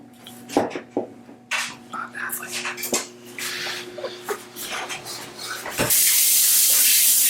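Beets and other vegetables for roasting are rinsed under a running kitchen tap. The water bursts in loud and steady near the end, after a stretch of soft handling noises and faint voices.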